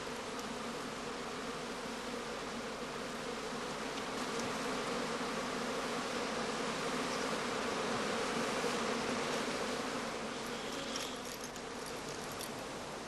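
Honey bees around straw skep hives set out on blooming heather in late summer give a dense, continuous buzz that holds steady throughout with no pauses.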